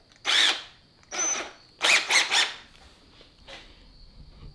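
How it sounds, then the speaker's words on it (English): A power drill whirs in several short bursts, one single then three rapid pulses, with a faint final touch, as it bores a pilot hole into wood for a serving tray. "We're going to go ahead and drill through it."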